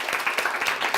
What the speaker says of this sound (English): So please applaud